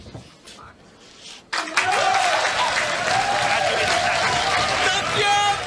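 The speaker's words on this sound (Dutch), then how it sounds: "Tommy, waarom klappen ze nou?" Audience applause in a 1995 Dutch TV comedy series: a quiet, near-empty start, then a sudden dense burst of clapping that stays loud and steady to the end.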